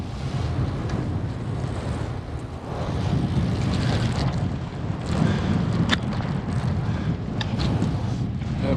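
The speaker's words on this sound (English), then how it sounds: "I'm hoping the wind doesn't drown me out too much, because I'm headed north. It's very windy." Strong wind buffets a cyclist's microphone while riding north on a very windy day, a loud, continuous roaring rumble with gusty surges and occasional sharp crackles, and no speech.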